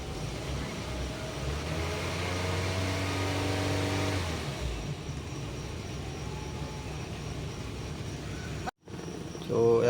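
A repaired Ford Focus engine idles and revs steadily in a workshop, a continuous mid-pitched drone with a rising rev for the first few seconds, then settling lower; people talk over it and a sharp cut breaks it near the end.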